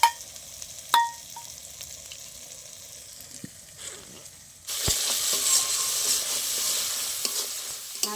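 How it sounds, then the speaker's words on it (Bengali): Spices frying in a pan for an egg curry, a few scrapes and taps of stirring at first, then a loud, steady sizzle that starts abruptly halfway through and continues to the end, close with no talk. "ভাজা মশলাটা তো ভালো কষানো হয়ে গেছে।"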